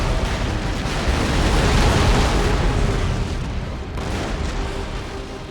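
Ship cannons firing a grapeshot volley in the Empire Total War naval battle game, a long rolling roar of overlapping booms that rumbles for several seconds, with a brief dip before it resumes.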